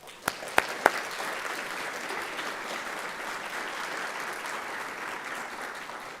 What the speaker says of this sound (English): I want to give our kids a round of applause before they walk out